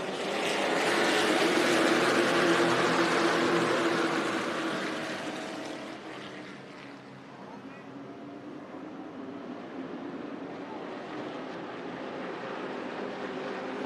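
Pro late model race cars roaring out of turn four at Irwindale Speedway, a loud engine drone that swells then fades as the pack passes and builds again.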